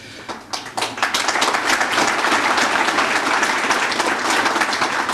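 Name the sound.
applause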